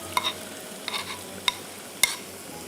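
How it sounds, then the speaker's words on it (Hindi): Onions in hot oil for a cheeseburger crunch wrap, with a steady low sizzle and four sharp stirring clinks from a spoon against the pan, no talking. "अच्छा ऑयल में हम डालेंगे 2 टेबलस्पून प्याज डाल रही हूँ पहले"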